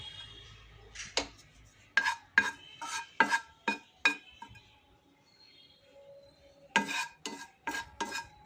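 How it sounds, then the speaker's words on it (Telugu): Curry leaves are dry-fried in a pan, heard as bursts of brisk scraping and clinking stirring strokes separated by quiet pauses, close and fairly soft, with no one speaking. "ఇప్పుడు అదే ప్యాన్లో కరివేపాకు వేసి వేయించుకోవాలి"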